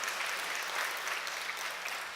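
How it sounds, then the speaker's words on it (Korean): A church congregation at a Wednesday evening worship service applauds, a steady, dense wash of many hands clapping at once, heard from a moderate distance with no break. "두 분 박수로 감사하겠습니다"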